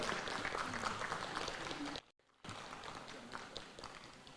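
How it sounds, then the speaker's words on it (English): Crowd clapping at a State House welcome event for a marathon runner, a steady patter of hands that drops out abruptly for a moment, then resumes at a similar level. "A clap for that as well."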